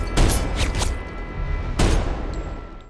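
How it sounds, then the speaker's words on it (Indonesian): Gunfire from a film, with loud booming blasts in quick bursts near the start and another heavy blast midway, trailing into rumbling echoes. "Brick terus melepaskan tembakan dengan sisa tenaga yang ada"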